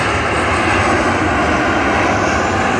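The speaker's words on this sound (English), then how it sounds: "This is the plane." Fixed-wing airplane coming in to land, its engine a loud, steady roar that holds unbroken throughout with no talk.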